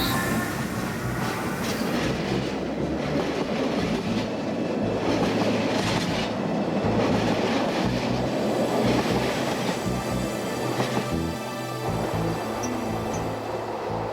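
A local train to Brienz, Switzerland, rumbles steadily along the rails from start to finish, with a continuous low roar and faint rhythmic clatter of wheels, loud and close.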